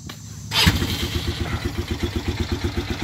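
A 2018 Polaris Phoenix 200 ATV engine cranks and catches, then settles into a steady, rhythmic idle with a regular pulsing chug, close and fairly loud, with no talking.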